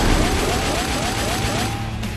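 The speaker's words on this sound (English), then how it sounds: "So let's use our AK to try to kill them." An AK rifle fires in The Darkness video game, a dense roar of shots and booming reverberation that fades toward the end.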